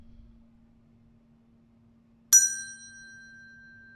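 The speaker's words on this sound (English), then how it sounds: "We're going to gently close our eyes and listen to the bell" A single mindfulness meditation bell is struck once, giving a clear bright ding that rings on and slowly fades in an otherwise quiet room.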